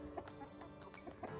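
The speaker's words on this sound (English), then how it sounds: "thought I'd just say hi to the chickens." Chickens and a rooster cluck close by on a farm, a run of short, overlapping calls over a faint background hum, with no talking.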